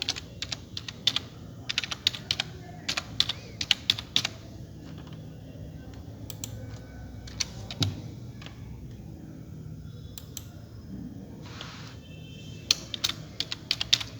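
Rapid clicking keystrokes on a computer keyboard as city names are typed in, close and fairly quiet, coming in irregular bursts with short pauses over a low room hum.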